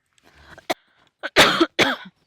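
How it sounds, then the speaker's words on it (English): A single small cough, then two harsher, louder coughs close to the microphone, separated by brief silence. "I have to cough. She has to cough."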